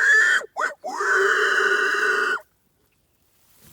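A man imitates a farm pig call with his voice: two short bursts, then a long, sustained, loud hollering call that cuts off abruptly into silence.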